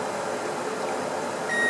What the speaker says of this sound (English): we're down to our last few seconds before the timer beeps